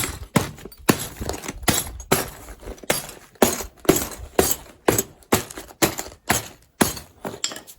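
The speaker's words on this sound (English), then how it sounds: "Basically, I'll just keep smashing it." Glass bottle being smashed into small pieces for a fused glass paperweight project, a rapid series of sharp crunching impacts and tinkling shards, roughly a dozen close, loud strikes in an uneven rhythm with no talk.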